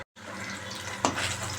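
Pabda fish frying in hot oil on a home stove, a steady close sizzle that starts abruptly after a brief silence and holds, with a short sharper burst midway.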